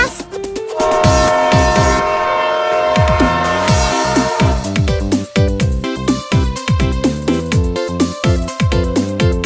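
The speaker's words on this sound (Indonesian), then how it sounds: "Lihat teman-teman, ada kereta Thomas." A toy Thomas train chugs along with steady rhythmic clicks and rattles, giving a couple of short horn toots, loud and close, with no talking.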